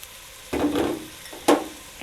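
Ham dropped into a pot of sautéed vegetables: two soft, brief bursts of sizzle and clatter as pieces land and are stirred, then a quieter simmer between them.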